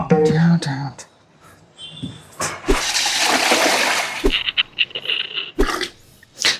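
Water scooped and dumped out by hand, with sloshing pours and splashes between quieter scraping moments, close by; a dog whimpers and people talk over it.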